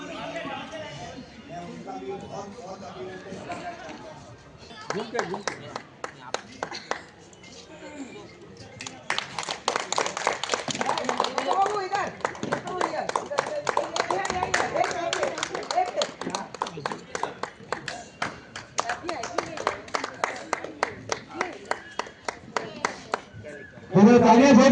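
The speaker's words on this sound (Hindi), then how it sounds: "दोनों तालियां जोरदार होनी चाहिए" Crowd clapping at a sports event ceremony, building into a dense run of claps that holds steady for many seconds, with a voice talking over it at the start and a loud burst at the end.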